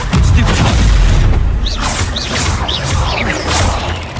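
A fire spell cast in the Hogwarts Legacy video game on PS4 Pro, heard as a loud booming whoosh with mechanical crackles over a continuous game soundscape, with a few bright chirping effects toward the end.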